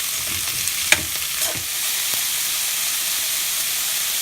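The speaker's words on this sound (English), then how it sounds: "we are not trying to cook the cauliflower, we are just frying it" Cauliflower frying in a pan, an even bright sizzle with a few soft stirring knocks at the start, steady and close, no voices.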